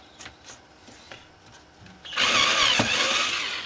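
A power drill bores a 7mm hole during a HobbyKing Estrella model build: quiet handling noises, then a sudden loud, steady whining drill run that holds for over a second to the end.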